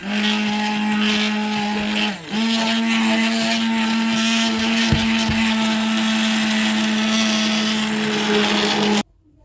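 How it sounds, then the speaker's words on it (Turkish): An electric hand mixer whisks pudding with butter, whirring loudly and continuously, its motor pitch dipping briefly once, then cutting off abruptly at the end. "Şimdi tereyağımızla özleşmesi için mikserimizle çırpıyoruz."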